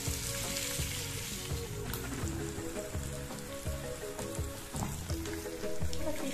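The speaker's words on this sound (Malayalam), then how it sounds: "ഇനി നമ്മുടെ മീൻ കിടന്ന് ഫ്രൈ ആവട്ടെ." Fish frying in a pan, a steady dense sizzle and crackle of hot oil that continues without a break, close and fairly loud.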